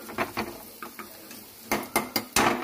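Marinated rohu fish set into a kadai of mustard oil, with a few clanks and scrapes of utensils against the pan and a soft sizzle, close by.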